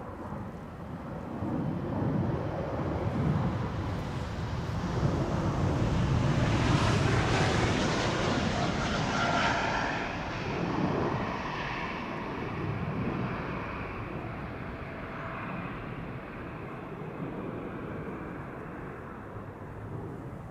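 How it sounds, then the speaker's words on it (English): An Embraer E195-E2 jet airliner departing Amsterdam Schiphol roars from a distance, the broad engine rumble swelling to a peak midway and slowly fading, with wind noise on the microphone. "Here we have an E2 Embraer 195."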